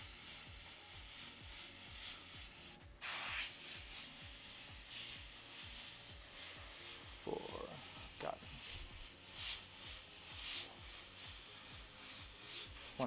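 An airbrush sprays paint onto a shirt, giving a continuous soft hiss, close and low in level, with faint rubbing and handling noises and a short louder burst early on, without voices.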